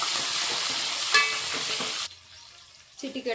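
Cumin, onion and green chillies fry in a pan with a loud, steady sizzle and the crackle of stirring for about two seconds. The sound then drops to a faint hiss, and a brief clatter follows near the end.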